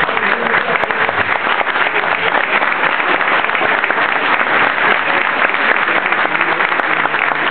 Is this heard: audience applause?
yes